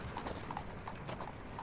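Horse hooves clip-clop at an irregular pace on a street with carriages, a few sharp, moderately faint strikes heard alone.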